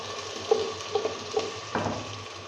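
Tomato paste hitting hot oil with frying garlic-ginger paste in a pan for restaurant-style boneless chicken handi, giving a soft sizzle with a few light stirring clicks and a brief swell of frying hiss near the end.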